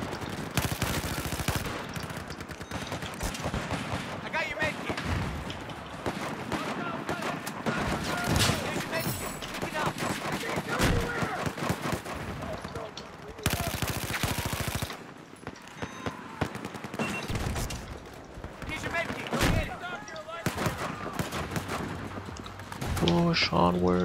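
Rapid bursts of automatic rifle and machine-gun fire crackle through a Battlefield 4 firefight, with loud repeated volleys and scattered shots over a battle din, along with occasional voices.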